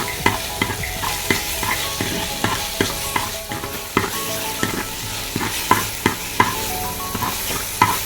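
Tomatoes and green chillies sautéing in a pan for a Kerala-style fish head curry, a constant close sizzle punctuated by brisk, rhythmic scraping and knocking of a spoon against the pan, no voices.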